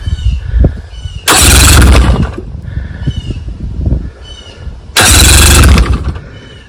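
Electric starter cranking a Johnson 18 HP outboard motor in two loud, separate bursts of about a second each, with quieter idle-like noise and clatter between them.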